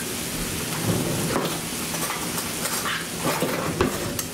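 A long spoon stirs food in a pan over a gentle, steady sizzle, with soft scraping strokes and light knocks recurring throughout, close by and without speech.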